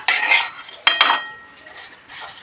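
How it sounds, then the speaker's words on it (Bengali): A metal utensil scrapes and clinks against a pan in a few bursts of stirring as laccha dough fries, fairly close, with no talking. "যেভাবে বারবার নাড়াচাড়া করতে হবে"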